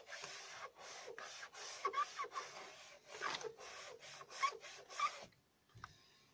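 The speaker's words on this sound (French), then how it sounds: "Je frotte avec mon éponge." A sponge is scrubbed over car bodywork in repeated rhythmic rubbing strokes, close and fairly faint, about a dozen passes before a short pause.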